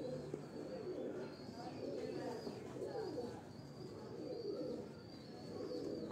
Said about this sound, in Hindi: ये मेरे उस्ताद वाले कबूतर हैं जी, डॉक्टर अब्दुल गनी साहब वाले लाखे कबूतर हैं।